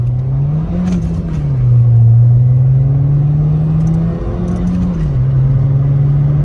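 A Nissan Juke fitted with a Nismo exhaust hums steadily at idle, then its engine rises in a loud, sustained drone before settling back, with the rise and fall repeating in a second shorter rev.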